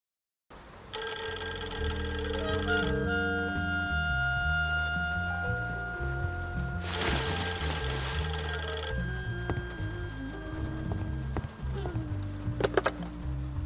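A telephone rings in the noir detective game Face Noir, with repeated electronic bell bursts over a steady bed of music that continues throughout.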